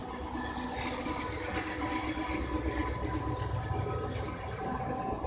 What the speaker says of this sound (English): So freight train's coming by.